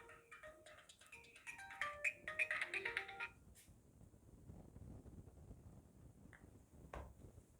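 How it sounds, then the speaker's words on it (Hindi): A phone ringtone chimes in bright repeated tones for about three seconds during a Hindi-language geography class, then stops and leaves low room noise. "चलिए फ़ोन आ रहा है"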